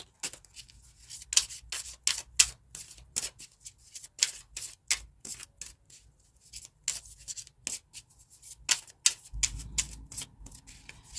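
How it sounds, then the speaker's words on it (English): Metatron oracle cards being handled and shuffled: a rapid run of crisp, close snapping and riffling bursts, irregular but steady, with a low background hum and no talk. "We are going to go ahead and get a few Metatron cards here, you guys, for you."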